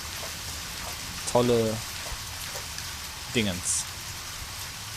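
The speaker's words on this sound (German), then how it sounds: "Ach, weil es regnet." Steady rain hiss from the video game Deadly Premonition fills the background throughout a car drive, with a person speaking briefly over it twice.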